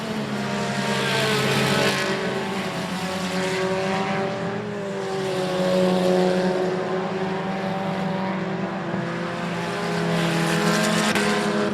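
Race cars lap the I-37 Speedway in traffic during a regular race program, engines droning and wailing in overlapping waves as cars pass near and far.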